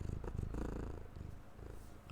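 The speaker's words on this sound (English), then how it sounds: "Can you guys hear her purr if I bring her closer to the mic?" A cat purring right up against the microphone, a steady low rumbling vibration that pulses evenly throughout, fairly soft and close with no other sounds.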